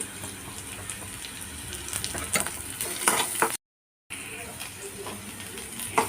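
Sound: green chili added to pan, frying and stirring

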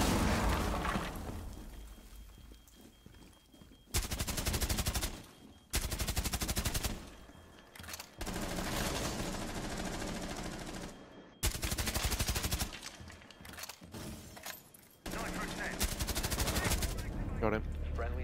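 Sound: suppressed gun firing in video game Rainbow Six Siege

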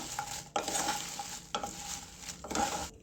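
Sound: red chillies being stirred and dry-fried for rasam powder

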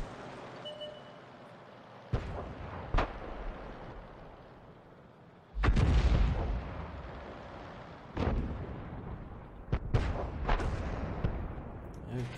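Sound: artillery firing in World of Tanks video game

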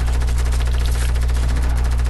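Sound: assault rifle fire in Fortnite video game

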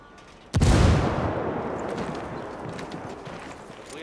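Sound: gunfire and explosions in video game Ghost Recon Wildlands

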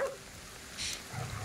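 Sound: dog barking in video game Ghostwire Tokyo

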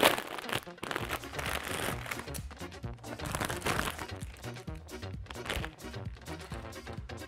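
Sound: opening a Rollton instant noodle package, plastic crinkling

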